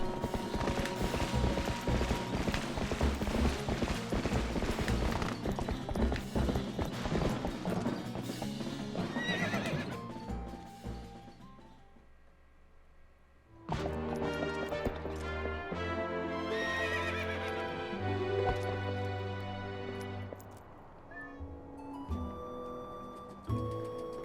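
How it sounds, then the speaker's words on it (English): Epona the horse from the video game Zelda Twilight Princess gallops with a fast, steady clip-clop of hooves and lets out loud whinnies over game music, the hoofbeats pausing briefly midway before resuming. "And just like that, we have our horse back."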